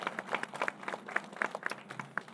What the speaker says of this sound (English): So again, how about a nice round of applause for Beth and her folks.